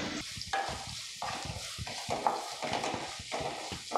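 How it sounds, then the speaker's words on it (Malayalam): Chopped onion with mustard seeds and curry leaves sizzles steadily in a pan for a Kerala white chickpea curry, with repeated scraping stir strokes roughly every half second to second, close and moderately loud. "സവാളയൊന്ന് നന്നായിട്ട് വഴറ്റിയെടുക്കാം."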